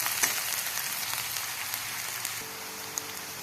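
Garlic, ginger and coriander paste frying in oil for stuffed bitter gourd curry, a soft, steady sizzle with faint crackles and a few small clicks from stirring, close and fairly quiet with no talking.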